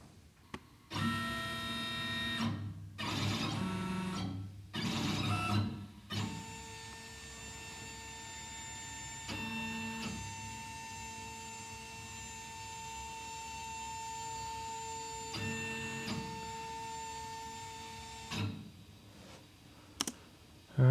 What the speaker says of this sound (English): cut out on the plasma table.